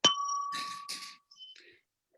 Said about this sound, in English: Just ring the virtual bell and you're ready to go